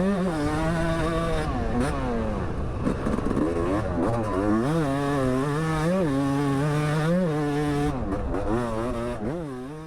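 A Yamaha YZ250 two-stroke motorcycle races around a dirt track, its engine screaming and wailing through repeated rev swells and gear changes, loud and continuous throughout.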